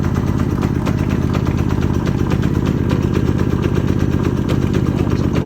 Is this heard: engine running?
yes